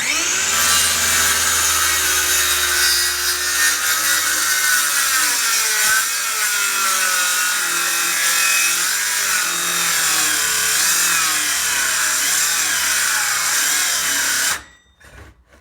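DeWALT DCS570 cordless circular saw running and cutting wood, a loud steady whine close by whose pitch sags under load, cutting off abruptly near the end.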